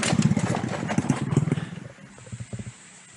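A motorcycle taxi engine running on a mountain trail near Bambangan on Mount Slamet, a steady close engine rumble for about two seconds that then drops quieter, with a few brief pulses near the end.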